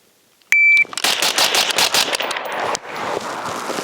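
A Springfield Armory Hellion bullpup rifle fires a rapid string of sharp, loud shots after a shot timer's electronic beep, with reverberating echoes trailing off.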